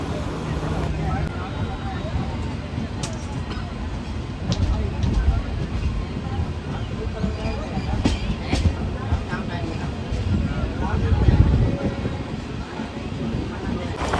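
Kaziranga Express passenger train rolling through Burdwan yard heard from aboard, continuous rumbling wheels on rails with clacks and wind noise, under a voice.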